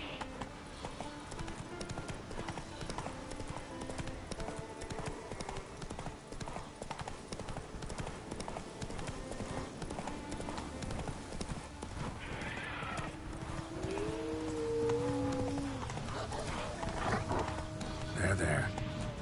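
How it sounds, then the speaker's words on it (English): Horse hooves clip-clopping at a gallop in the video game The Witcher 3, a steady rapid drumming throughout with a brief whinny near the end, under game ambience and someone talking. "Giddy up. Calm down, Roach."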